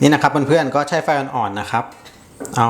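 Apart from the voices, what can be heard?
None of the usual background noises is heard.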